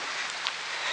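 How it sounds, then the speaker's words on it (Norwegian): Light rain patters steadily as a broad, even hiss close by, with a faint brief drip standing out midway and no voices. "Det regner litt."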